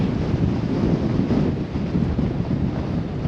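Strong sandstorm wind in Amman, Jordan, buffeting the microphone with a heavy, rumbling roar that surges and dips, loud and continuous with no voices.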